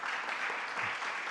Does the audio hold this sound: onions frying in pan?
no